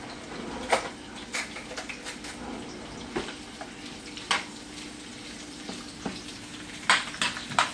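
Onions and peppers for steak fajitas frying in a pan, a steady soft sizzle running throughout with scattered louder crackles and spits, close and alone with no talk.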